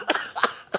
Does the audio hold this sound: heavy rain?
no